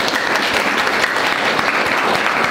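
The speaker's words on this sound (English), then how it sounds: "Round of applause, I think." An audience at a Stonewall gathering gives a round of applause: dense, steady, loud clapping that fills the whole stretch without a break.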